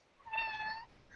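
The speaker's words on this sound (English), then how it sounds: "Oh, that's my cat, if you heard" A domestic cat lets out a single short meow, faint and somewhat distant, in an otherwise quiet room with no talk.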